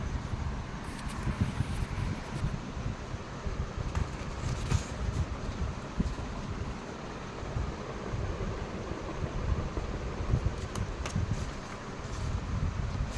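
An electric fan blows air in a steady, even rush with a low rumble underneath. It sounds close and constant for the whole stretch.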